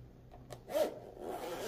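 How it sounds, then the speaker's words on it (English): A zipper on a Game Traveler Deluxe travel case for the Nintendo Switch is drawn closed in one short, close rasping pull, with a few faint rubs just before it. "zip the case up."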